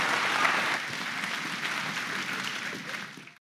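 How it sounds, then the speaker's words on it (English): A church congregation clapping their hands for Jesus Christ, a dense, loud wave of applause from a crowd that holds steady and then fades out at the end. "Clap your hands beautifully together for Jesus Christ."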